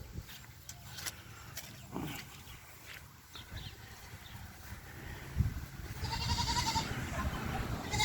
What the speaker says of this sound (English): And there's Mr. Billy Goat